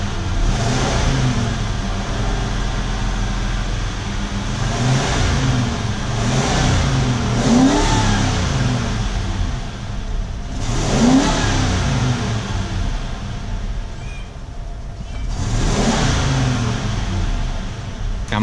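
A 1995 Ford F150 4x4 pickup truck engine, smoking after a SeaFoam treatment, revved repeatedly in a shop: several swelling blips rise and fall over a steady idle rumble, heard up close.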